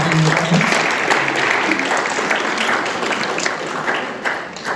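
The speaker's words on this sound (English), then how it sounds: "Let's give Michael a round of applause." A crowd at a church forum applauds steadily throughout, a dense wash of many hands clapping at once that holds its level before easing slightly at the end.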